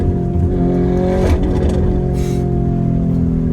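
Lamborghini Urus engine and loud exhaust during downshifts, a deep loud droning roar from close by with short crackling bursts over it.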